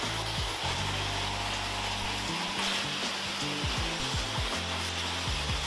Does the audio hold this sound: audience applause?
no